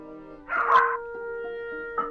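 A dog barks close by in a few short yipping bursts over steady sustained organ-like tones.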